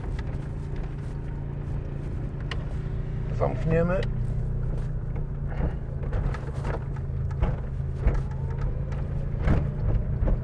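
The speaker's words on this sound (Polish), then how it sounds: "W tej chwili odpuściłem gazu, agregat pracuje zauważalnie na wolniejszych obrotach." A steady drone from the 3000W generator on a Sarini Tito HS hybrid microcar hums underneath throughout, running at lower revs with the throttle eased off, with someone speaking briefly near the microphone and some clicks and rustles.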